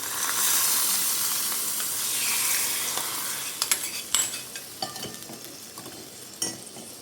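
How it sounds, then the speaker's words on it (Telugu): Hot tempering tipped into a pot of mutton keema soup gives a loud, hissing sizzle that gradually fades, followed by several sharp clinks and scrapes of a ladle against the pot. "ఈ తాలింపు ఇందులో వేసేసుకుంటాం."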